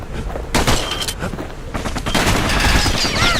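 Enemy gunfire in the video game Bastion, a loud, dense clatter of rapid shots and impacts running through the short stretch without speech.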